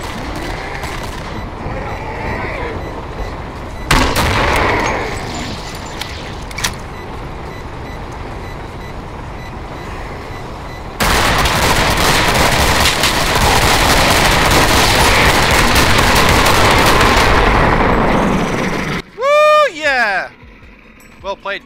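Gunfire in the co-op shooter Killing Floor, with bursts of dense, rapid automatic shooting, most sustained near the end, then sharp chirping effects, loud and close, with players talking over it.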